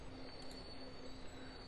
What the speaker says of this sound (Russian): Этот поезд только что прибыл на станцию Артемовск.